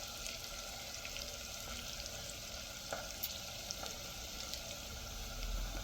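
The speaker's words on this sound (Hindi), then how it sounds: "ये प्याज मेरे हो चुके हैं फ्राई" Onions frying in a pan for sarson ka saag, a steady, soft sizzle with faint crackles running throughout, close by and with no talking.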